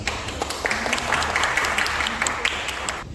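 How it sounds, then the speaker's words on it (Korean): Seminar audience applauding in a hall at an AI event, steady dense clapping with sharp individual claps standing out, fairly close, ending abruptly. "큰 박수로 마치도록 하겠습니다."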